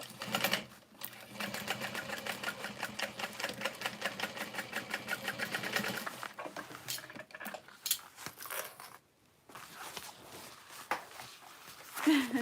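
A sewing machine stitches a pre-cut bag in a rapid, even mechanical chatter for about six seconds, then runs in shorter stop-start bursts with pauses, close up and moderately quiet.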